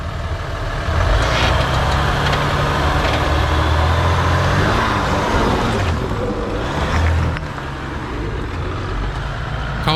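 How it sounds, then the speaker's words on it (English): Jeep engine labouring and revving as it crawls over rocks off-road, a loud close droning roar with rising and falling pitch as RPMs climb slowly, dropping to a lower rumble toward the end. "Listen to how long it took the engine RPMs to go up."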